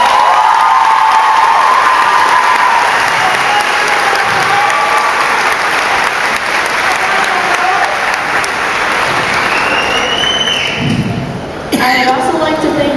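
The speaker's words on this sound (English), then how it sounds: "So let's all give the Metro staff a round of applause." Loud, sustained audience applause with cheering and whoops fills a graduation ceremony hall, dense throughout and briefly dipping near the end.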